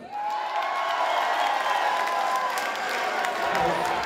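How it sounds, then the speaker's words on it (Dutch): An audience applauds at the Miss Leie Ambassadrice 2016 finale, a dense, steady wash of clapping with a few cheers, sustained and fairly loud for the whole stretch. "Applaus voor uzelf!"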